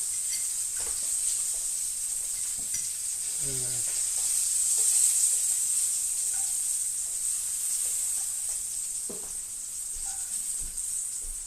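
Smelt coated in flour and breadcrumbs fries in a pan with a steady, bright hiss of hot oil, joined by occasional soft clinks and handling noises and a brief voice in the background.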